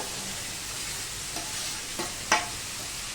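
Potatoes go into frying tomatoes in a pan and get stirred, a constant close sizzle with a few soft scrapes and one sharper knock, no voices.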